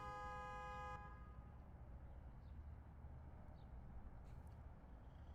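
A single sustained car horn blast from a police-style sedan in a racing sim at Laguna Seca, clear for about a second before cutting off, leaving quiet low background rumble.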